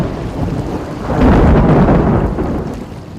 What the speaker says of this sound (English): the storm is really kicking up.